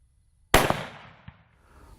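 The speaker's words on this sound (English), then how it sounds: "Today I'm shooting outside to demonstrate recoil." A 300 Win Mag rifle fitted with a muzzle brake fires a single loud, sharp shot outdoors, followed by a long decaying echo and a fainter report rolling back about half a second later.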